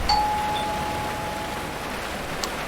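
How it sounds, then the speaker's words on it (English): A doorbell chimes once inside GTA V during an LSPDFR Blaine County Sheriff patrol, a clear ring that fades into a steady hiss of game ambience. "let's get a doorbell."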